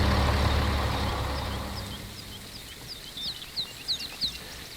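A Zil 130 truck rumbles in the Russian Village Simulator game, its loud low engine drone fading over a few seconds while scattered bird chirps rise in the quiet that follows.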